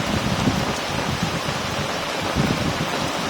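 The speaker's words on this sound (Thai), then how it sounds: "ฝนตกหนักมาก" Heavy rain pours down in front of a village during an April storm in Thailand, a loud, dense, unbroken hiss with a light wind and no voices.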